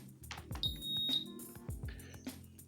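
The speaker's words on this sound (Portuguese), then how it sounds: "Agora eu vou ligar a placa, ela vai bipar." A washing machine control board, from a washer that won't drain or spin, gives a sharp high beep amid clicks and faint rattling, the tone sustained briefly then fading, close and fairly quiet.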